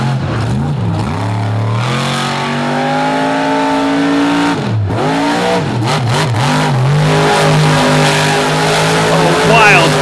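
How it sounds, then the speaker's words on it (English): A monster truck at a track event performs a power drift donut, its engine roaring loud and near with repeated revs that dip and climb in pitch, and faint tire squeal underneath for about ten seconds. "A wild power drift donut down the front straightaway, walking it all the way across the track"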